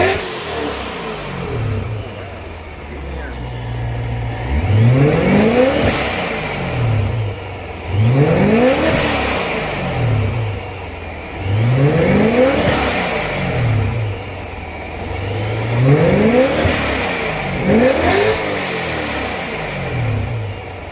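Supercharged car engine revving repeatedly in about four strong pulses, each a rising whine and roar that falls back to idle between bursts, loud and close with no talk, after a $25 modification.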